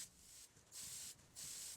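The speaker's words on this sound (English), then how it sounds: "we can spray both with Tamiya white primer." White Tamiya primer is sprayed from a can onto an Estes Little Joe II model rocket airframe and motor in three steady hissing bursts separated by brief pauses.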